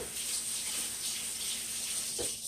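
Hot water runs steadily from a kitchen tap during washing up while cooking, a continuous hissing splash at close range with no talk over it.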